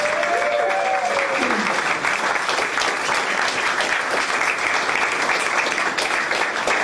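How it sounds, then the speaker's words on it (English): Steady applause from an audience at a music festival photography awards ceremony, continuous dense clapping at an even level for several seconds, with a faint brief tone near the start. "give Lou a round of applause for being here"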